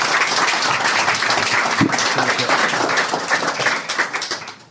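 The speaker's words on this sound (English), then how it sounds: "Round please? of applause for Feras." A conference audience applauds a guest invited up on stage. The clapping is dense and steady for about four seconds, then thins and fades out.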